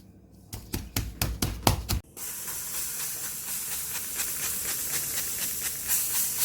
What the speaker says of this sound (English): Just going to spray it so the meat don't stick to the pan.